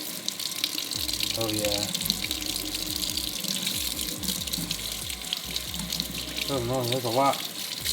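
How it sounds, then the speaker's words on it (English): Aquarium phosphate media being rinsed under a running sink faucet, a steady close gush of tap water throughout, with people talking briefly over it. "Just gonna rinse it until we see no more brown residue coming out."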